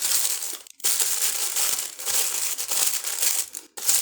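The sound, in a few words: tissue paper being folded and crumpled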